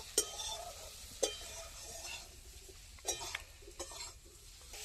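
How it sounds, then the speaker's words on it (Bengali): Ground chili and cumin are stirred into vegetables for a spinach and eggplant dish, a soft sizzle in the pan punctuated by a few sharp spoon scrapes and clinks against the metal, quiet and close, without talking. "এবার মশলাগুলোকে সমস্ত সবজির সাথে একটু নাড়াচাড়া করে ভেজে নেব"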